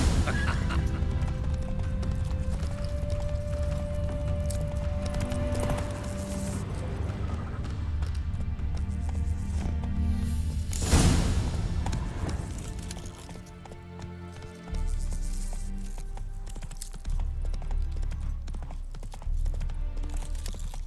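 Horse hooves clip-clopping at a steady gallop in The Witcher 3, a continuous rhythmic pounding over game music and ambience, fairly loud throughout with a brief crash near the middle.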